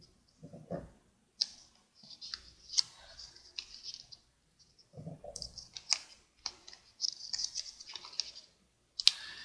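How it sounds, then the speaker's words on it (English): Paper pyramid pattern being folded in along its score lines, giving soft irregular crinkles, creases and sharp little snaps in quick bursts separated by short pauses, close and fairly quiet. "To assemble the pattern, we'll fold in on all of our score lines."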